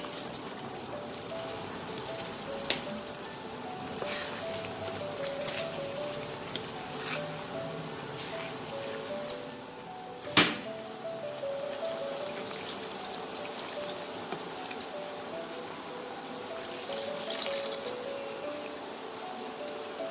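Water poured into a pan of methi chicken curry with potatoes, giving a steady, moderate splashing trickle that runs continuously, with one sharp clink partway through.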